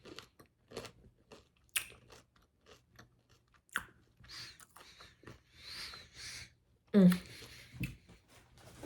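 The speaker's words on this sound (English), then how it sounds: "y'all ready to see how crunchy this bacon is?" Crunchy bacon is bitten and chewed close to the mic in sharp, crackling crunches spread across several seconds, with one loud bite standing out, and quiet talk in between.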